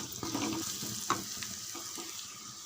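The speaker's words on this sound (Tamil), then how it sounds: "ஒரு 2 நிமிஷம் நல்லா வதக்கி விடுங்க" Masala sizzling and frying in hot oil in a pan, a steady close crackle with occasional stirring scrapes and one sharp clink, no voices.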